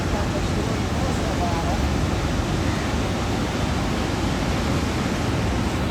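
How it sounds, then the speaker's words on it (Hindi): A loud, steady roar of rushing water fills the scene outdoors, a dense continuous wash close by with no breaks. "शोर कितना आ रहा है पानी का।"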